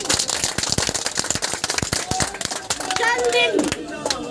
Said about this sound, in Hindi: दोनों हाथ उठा के दिखाइए, ताली बजा के दिखाइए